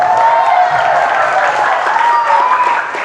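Audience at a lighthearted religious lecture at Masjid Nurus Syahid applauds the mosque, a steady crowd clapping with some voices mixed in throughout, fading slightly at the end.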